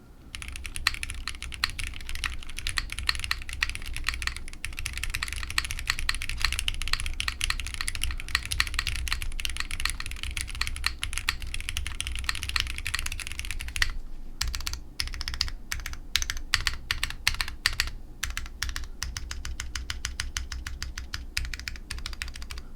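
Rapid, continuous typing on a Magnum65 mechanical keyboard with a 1.2mm flex-cut PCB, dense clacky keystrokes at close range with no talk, the rhythm breaking into sparser distinct presses partway through.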